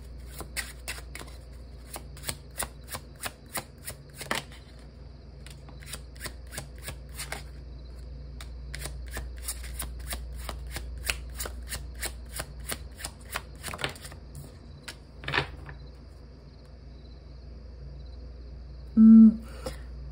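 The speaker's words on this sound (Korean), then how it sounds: "제가 만든 이 메시지 카드 몇 장 뽑고 리딩 마치도록 할게요" Tarot message cards being shuffled and drawn by hand, a steady run of crisp, close card snaps and riffles repeating for about twenty seconds, with a short louder tap near the end.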